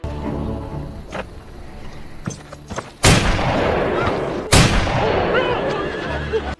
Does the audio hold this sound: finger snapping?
no